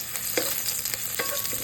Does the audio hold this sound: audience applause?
no